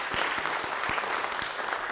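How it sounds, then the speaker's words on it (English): An audience applauds on a game show set to thank a sponsor, a brief steady burst of clapping with a few sharper claps standing out close by. "So round of applause for our sponsor on Niagara Falls Boulevard."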